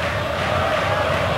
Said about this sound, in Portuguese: essa multidão não parou de gritar um só instante